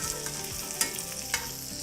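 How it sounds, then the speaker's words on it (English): Cajun cod sizzles and fries in a pan, a dense crackling hiss with a couple of sharper pops, close and continuous without talk. "That one I'm gonna let cook a little bit more."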